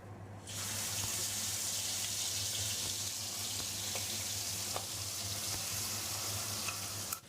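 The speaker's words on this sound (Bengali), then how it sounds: "এবার দিয়ে দেবো মেখে রাখা চিংড়ি মাছ।" Marinated shrimp dropped into hot mustard oil with nigella seeds, a loud steady sizzle that bursts in at once and holds for about seven seconds, with no talking.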